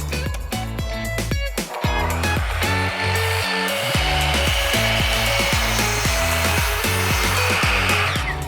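A saw cuts through a wooden board for a charcuterie board, with steady, rhythmic back-and-forth strokes repeating close up.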